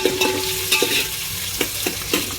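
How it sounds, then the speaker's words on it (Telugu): Onions frying in a pan while being stirred, with a bright constant sizzle broken by several scraping strokes of a spoon against the pan. "ఫస్ట్ అయితే ఆనియన్స్ అయితే వేసుకుంటున్నా ఇవి మంచిగా అయితే వేగని ఇక ఇవైతే మంచిగా తిప్పుకుంటున్నా"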